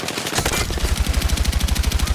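Rapid automatic gunfire in the video game REDSEC, a steady close burst of evenly spaced shots after a brief mixed opening, loud and continuous.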